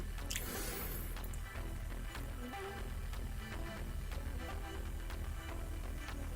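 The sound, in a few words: slowly pouring water onto a scale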